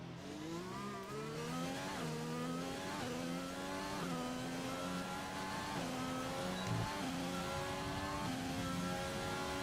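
Race car engine in the F1 2020 video game screams continuously, its pitch climbing and dropping in repeated gear-change sweeps, loud and steady throughout with no voices.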